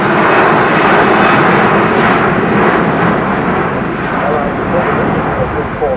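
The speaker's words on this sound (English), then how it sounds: "Lufthansa received the first Dash 200 series, the one we're watching now" A Lufthansa Dash 200 series airliner flying at the Farnborough Air Show gives a loud, continuous broadband engine roar that holds strongly throughout, with a voice talking over it.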